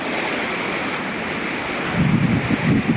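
Sea waves washing onto a deserted beach on the Adriatic coast at Falconara Marittima, Italy, a steady rushing surf with wind buffeting the microphone and a louder wave breaking near the end.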